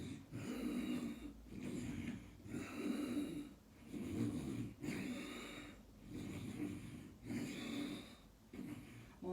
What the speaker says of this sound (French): on expire et on inspire en Ujjayi prononcé